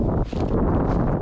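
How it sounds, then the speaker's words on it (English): Wind at a backpacking campsite in the QEII Wildlands, a steady, broad rushing roar buffeting the microphone close up, with no voices. "Windy here."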